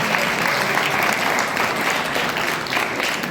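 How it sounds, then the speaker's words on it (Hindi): Steady, dense applause from a crowd at an award ceremony fills the whole stretch, even and sustained without pauses or voices standing out. "एक बार ताली बजा दीजिएगा।"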